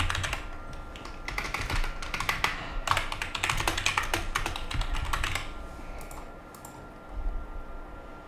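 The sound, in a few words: typing a description on a computer keyboard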